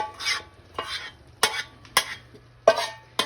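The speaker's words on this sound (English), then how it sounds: "I'm gonna add all this cooked rice into here." Cooked basmati rice being stirred into a pan for turkey fried rice, a spatula scraping in six distinct sharp strokes with faint sizzling between them, close and clear with no talk.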